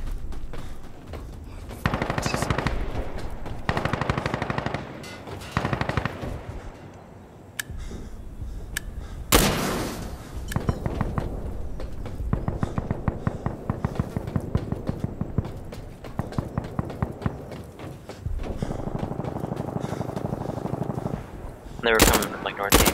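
Rapid automatic and single gunshots crackle in Insurgency Sandstorm, a sustained loud exchange of fire with bursts and pauses across the stretch, while players talk over it.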